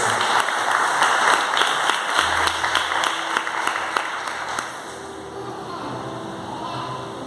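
A church congregation applauds at an evening worship service, dense clapping filling the room for about five seconds before tapering into a quieter murmur with a few scattered claps.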